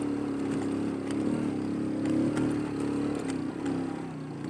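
A motorcycle labours up a steep mountain road in Samani Valley, Azad Kashmir, its engine a steady, close, low drone that rises and dips slightly.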